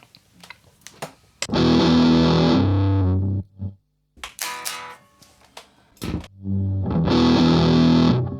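Heavily distorted electric guitar through an Electro Harmonix Big Muff fuzz pedal, fuzzy, saturated chords played in loud bursts separated by short pauses and scattered picked notes.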